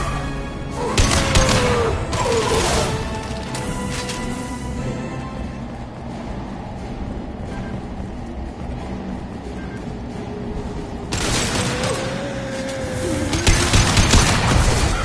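Video game gunfire from a live PS4 session: bursts of shots and booms near the start and again near the end, with a steady roar of game noise between and a faint tonal effect.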